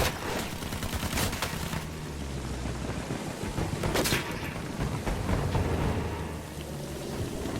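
Anti-aircraft gun firing in Battlefield 1 during the Gallipoli invasion: a dense, continuous roar of heavy gunfire and rumbling blasts, fairly loud and unbroken throughout, with one sharper crack midway.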